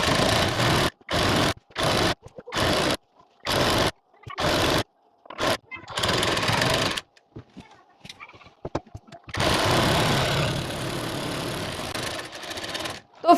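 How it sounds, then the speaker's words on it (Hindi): A domestic sewing machine runs a side seam on a four-panel cotton petticoat, heard as short start-stop bursts of rapid stitching followed by a longer continuous run, close and clear with no talk. "अब इसकी हम साइड फिटिंग वाली सिलाई लगा देंगे और हमारा पेटीकोट बनकर हो जाएगा कंप्लीट।"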